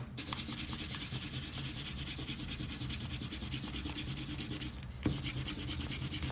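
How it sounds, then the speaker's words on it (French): A pencil eraser rubs quickly back and forth over paper, scrubbing out construction lines on a drawing in a rapid, even scratching rhythm that stops briefly near the end and then resumes. "Et voilà, on peut gommer nos traits de construction."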